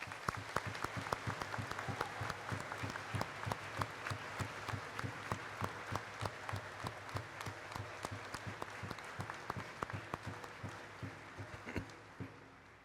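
A Catholic parish congregation applauding its youth at Sunday Mass, a long, steady round of many hands clapping that fills the room for over ten seconds and gradually thins toward the end.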